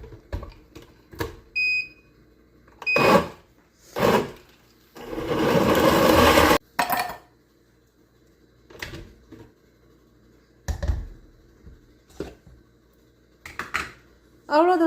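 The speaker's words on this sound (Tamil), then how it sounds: "இப்போ இதை நாம் நல்லா பிளெண்ட் பண்ணிடலாம்." A blender whirs avocado lassi with cold water and ice cubes in one short, loud burst of about two seconds. Scattered clicks and clatter come before and after it.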